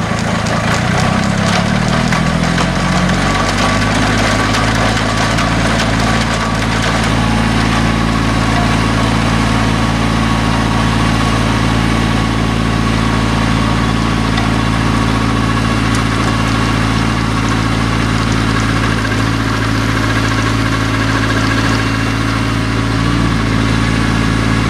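A tow plane's engine keeps droning after releasing a glider, a loud, steady, continuous hum with a deep low rumble. The pitch rises and settles in the first few seconds, then holds unbroken and unchanging.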